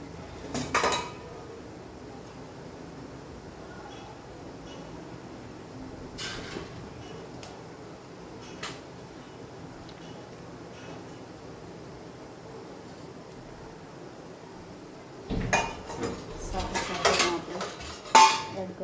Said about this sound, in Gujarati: હવે આપણે એમાં રગડો નાખીશું.